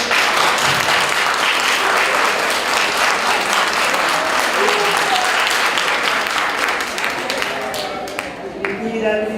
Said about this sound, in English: that round of applause is very much deserved